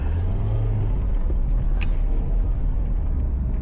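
Car engine pulling away in first gear on a street in Lahore, a steady low rumble close in the cabin with a continuous hum of surrounding traffic and no talk.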